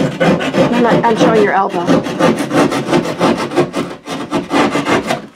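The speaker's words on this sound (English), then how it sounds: "This is a left-handed Sheetrock saw." A Sheetrock saw cutting drywall with fast, rhythmic rasping strokes, loud and close, continuing steadily throughout with a brief spoken remark over it.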